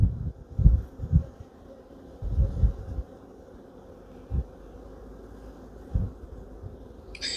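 Honeybees buzz low and steady from an open hive during a queen hunt among queen cells, with louder swells of buzzing and bumps of handling at intervals, no voices.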